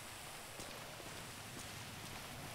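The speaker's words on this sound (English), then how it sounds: "Alright, guys, it's a rainy day." Steady rainfall in the video game GTA 5, a dense even patter of drops on surfaces with a few slightly louder splashes, heard alone without voices.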